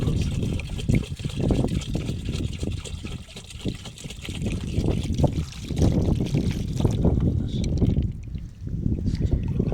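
Water poured from a container onto a newly planted valonia oak sapling in a village field, a steady trickling and splashing flow that runs continuously, close up and moderately loud.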